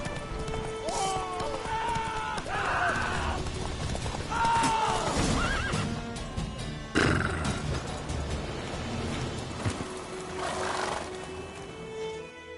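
Geralt's horse Roach in The Witcher 3 clip-clops along at a gallop and gives several loud whinnies, with game music and a voice speaking over the hoofbeats.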